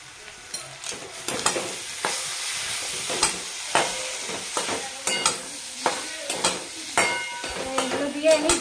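Vegetables stir-fried in a pan with soy sauce, tomato and sugar: a steady close sizzle and hiss broken by repeated scraping stirs every second or so, no voices.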